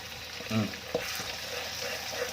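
Shallots and red chili stir-fry in a pan with a steady close sizzle, broken by scraping stirs and a brief clack, while a faint voice murmurs in the background.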